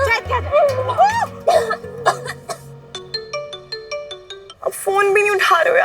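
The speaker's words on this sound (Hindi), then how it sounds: "अब फोन भी नहीं उठा रहे हो यार" A phone ringtone plays in repeated short bursts of bright tones, with voices talking and a cough-like sound before it.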